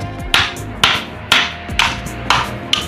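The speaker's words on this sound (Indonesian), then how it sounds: "Digetok pakai palu, ya." Six sharp hammer blows drive a screwdriver through a Polytron twin-tub washing machine part, close and loud, evenly spaced about half a second apart, each with a brief metallic ring.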